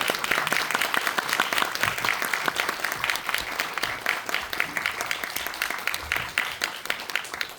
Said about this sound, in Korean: 큰 박수로 안소니 첸 감독님 환영해 주시기 바랍니다.